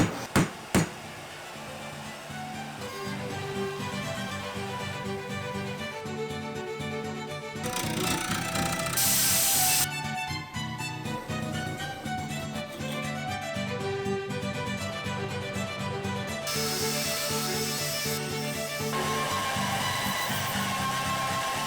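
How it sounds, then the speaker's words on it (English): A CNC machine cuts a large solid white oak spinning top, giving a sustained tonal whine that shifts pitch and intensity as the cut progresses, with a few sharp knocks at the start. "You can hear the CNC machine in there."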